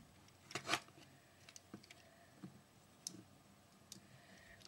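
Plastic parts of a Transformers Revenge of the Fallen Desert Tracker Ratchet toy being folded and flipped, giving a sparse series of close, sharp clicks and small snaps spaced irregularly over near silence.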